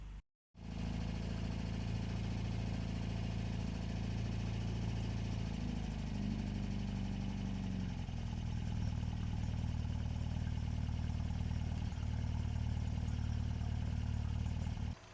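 A 1960s-style MG BGT with its original straight-four engine and twin SU carburettors idles steadily just after starting, a continuous low rumble with a slight shift in pitch midway as it settles, close by and without talk.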